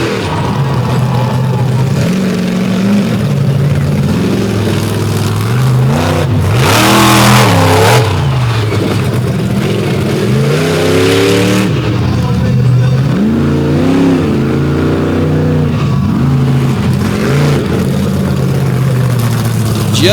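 Monster truck engines roar and rev during an arena freestyle run, with loud continuous engine drone rising and falling through repeated throttle surges while an announcer talks over it.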